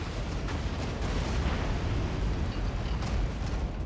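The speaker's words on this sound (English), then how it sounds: "Airstrike, hostile 6. It'll also hit hostile 2." Airstrike explosions in a video game rumble as a dense, continuous roar of blasts, loud and sustained with no talk over it.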